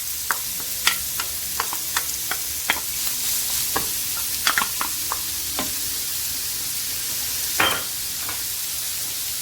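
Steady sizzling of finely chopped onions and garlic frying in hot oil, broken by scattered sharp clicks and scrapes of a utensil stirring the pan, with no voices.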